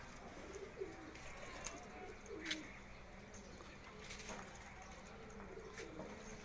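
Pigeons at a rural fanciers' yard in Kharian give low, steady cooing with scattered sharp chirps over a constant outdoor hiss. No one speaks.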